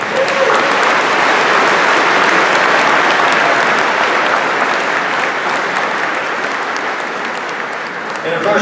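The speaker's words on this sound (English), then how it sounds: "Let's give them all a huge round of applause" Large audience at a small business awards celebration breaking into a long, loud, sustained round of applause that fades slightly near the end, with voices faintly mixed in.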